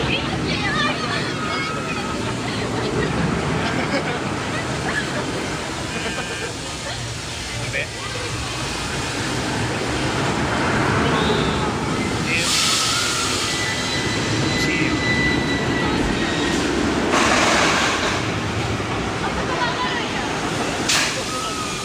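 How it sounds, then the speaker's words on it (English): Schwarzkopf Shuttle Loop roller coaster at Nagashima Spa Land rushes along with steady wind roar and rumbling, surging louder in bursts as the ride races, with crowd noise and voices mixed in. "we just rode Shuttle Loop here at Nagashima Spa Land, and that is a really fun ride. The launch is punchy."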